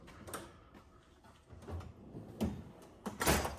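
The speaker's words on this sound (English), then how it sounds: "Okay, let's close that one. That's a big drawer." A heavy metal tool box drawer slides shut with a couple of rattling clunks, ending in a louder closing bang near the end.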